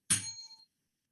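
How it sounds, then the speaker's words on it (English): A small hand bell rings once, a single bright clang that decays quickly into a short shimmering ring, close and alone. "When I ring this lovely bell that I got right here, you may start now."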